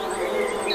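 Bees buzz in a steady, dense drone that holds through the whole moment, close and fairly loud, with no voices over it.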